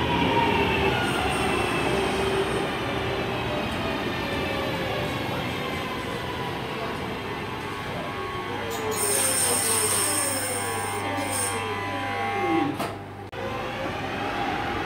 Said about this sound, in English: coming in now is the 1429 service to Lichfield Trent Valley, 323210, with a service that originated at Redditch.